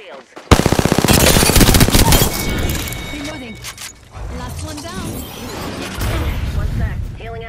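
Rapid automatic gunfire rattles in a video game firefight, a loud burst followed by scattered shots and effects, with a player talking over the action.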